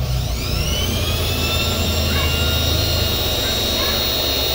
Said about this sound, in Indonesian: Coba nyalakan blower.